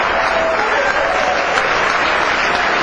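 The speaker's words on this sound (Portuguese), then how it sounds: "A igreja aplaude a Jesus." A church congregation applauds during a Portuguese-language sermon, a loud, dense and continuous roar of many hands clapping together, steady from start to finish.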